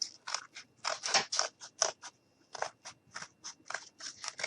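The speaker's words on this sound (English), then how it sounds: "we're just going to cut this out" Scissors snipping around a small paper boot ornament, giving a quick series of close crisp cuts in an irregular rhythm that pause briefly and then carry on.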